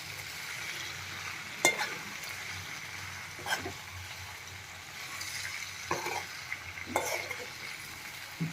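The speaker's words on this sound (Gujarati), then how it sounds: "એકદમ હળવા હાથે મિક્સ કરી લેશું" Cooked pasta is gently stirred in a pan on the stove, giving soft scraping and stirring strokes at irregular intervals over a faint sizzle, with no talking.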